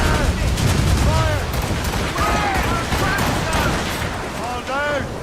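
A musket volley crackles in the Assassin's Creed Rogue battle, loud dense gunfire rolling over several seconds while shouted orders and voices carry through the din.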